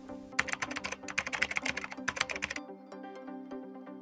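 Rapid close typing on an ErgoDox ergonomic keyboard, a dense run of crisp key clacks lasting a couple of seconds before stopping abruptly, leaving a quiet tonal hum.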